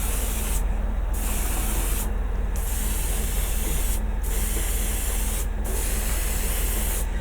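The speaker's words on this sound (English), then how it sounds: "I'm just misting it on." Spray paint misting onto a Godzilla vinyl model kit: a steady, close hiss of several short bursts with brief pauses between them, no voices.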